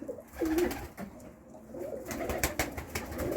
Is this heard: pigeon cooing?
yes